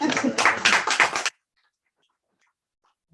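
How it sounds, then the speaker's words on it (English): An audience at an author talk gives a brief burst of applause lasting about a second, then falls silent, with a faint sound at the very end. "Little applause for that."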